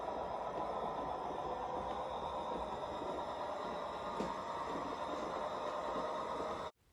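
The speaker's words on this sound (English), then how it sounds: "Now the train is about to pass Painted Rock, which my niece Mia painted, go behind Simon's house" A PIKO RC GE 25T model train rolls steadily past on an outdoor layout with a continuous, even rumble and faint humming tones, cutting off abruptly at the end.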